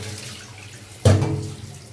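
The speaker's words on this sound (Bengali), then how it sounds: "শাকগুলো একটু বেশি পানিতে ধুতে হবে" Leafy greens are rinsed in a basin of water, a quiet background murmur that gives way to a sudden close splash and slosh of water, then trails off softly.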